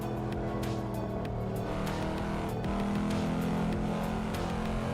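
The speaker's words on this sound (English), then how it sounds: "Mine is straight catless, so it sounds pretty good, in my opinion." A Volvo S60 five-cylinder engine with a straight catless exhaust drones steadily from inside the moving car, a loud sustained rumble with slight rises in pitch and no talking.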